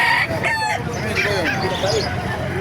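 Roosters crow and chickens cluck close by amid a busy background at a poultry market in Calumpit, Bulacan, with some voices mixed in.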